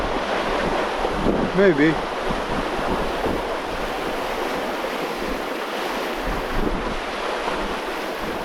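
Ocean waves break and wash continuously at sea, heard from the water with heavy wind buffeting the microphone throughout; a brief tonal squeak rises mid-way and a voice speaks briefly.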